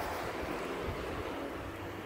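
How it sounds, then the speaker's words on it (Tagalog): Strong wind roars steadily against the microphone outdoors, a constant broadband rush with low buffeting and no voices. "Grabe, super hangin."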